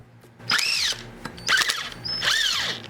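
A power tool fitted with a 14mm socket spins off the wheel nuts on a Kawasaki Bayou 220 ATV, three separate rising and falling whirring bursts, each about half a second, close by with no talk.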